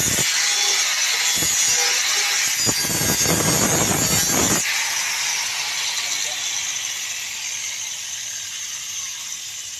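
Grinder fitted with a sanding disc spinning with a steady high whine; for the first few seconds a rougher, louder grinding texture with short bursts rides on top, then it settles to a smoother, even run.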